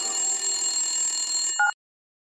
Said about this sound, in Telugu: బావా, నీకేదో ఫోన్ వస్తుంది చూడు.